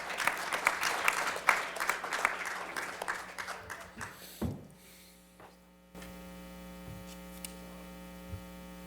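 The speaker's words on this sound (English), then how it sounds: "Let's give him a round of applause." Audience at a Dr. Martin Luther King Jr. memorial program at Essex County College applauds the ambassador from Algeria. The clapping is dense and fairly loud, then fades over about four seconds, leaving a steady electrical hum.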